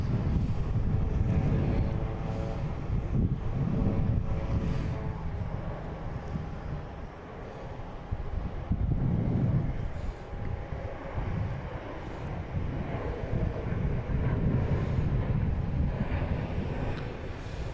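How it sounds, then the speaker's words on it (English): Delta airliner taking off from Boston Logan airport, a broad rumbling jet roar with wind buffeting on the microphone, swelling and fading in waves as the aircraft climbs away at a distance. "we have Delta taking off, heading to Detroit"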